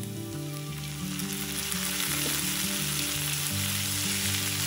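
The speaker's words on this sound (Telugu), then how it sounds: "ఇప్పుడు ఈ టమాటాని సాఫ్ట్గా అయ్యే వరకు కూడా వేయించుకోవాలి" Chopped tomato frying with browned onions in a pan, giving a loud, continuous close sizzle with light stirring beneath a steady tonal hum; no one speaks.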